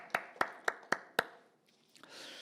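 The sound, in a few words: congregation clapping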